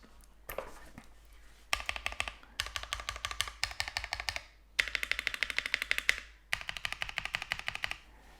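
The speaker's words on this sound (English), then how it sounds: "that was a 30-second typing sound test" Close, rapid typing on a mechanical keyboard with linear switches, a clattering stream of keystrokes in several bursts separated by short pauses, with no voices, recorded indoors with the mic about 8 inches away.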